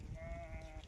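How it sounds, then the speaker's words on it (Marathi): A single sheep gives a short, faint bleat from a flock walking along a road, heard alone against low background rumble. "चालल्या आता वाटेने मेंढ्या आपल्या"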